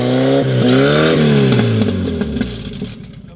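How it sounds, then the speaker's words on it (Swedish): A car engine starts and revs, rising then falling in loud, close bursts with a rough clattering edge before fading out. "De där fåglarna flyger när Anton startar sin bil."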